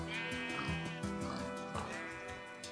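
Minecraft sheep bleat several times in quick succession, wavering calls overlapping one another against a soft in-game background, with no talking.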